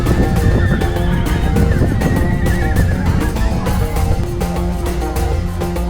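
Horses neigh and whinny at a horse-breeding village's riding field in Fengning, Hebei, amid a dense, busy bed of continuous background sound, with faint clip-clop hints and no clear speech.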